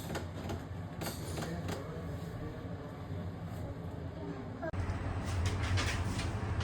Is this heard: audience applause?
no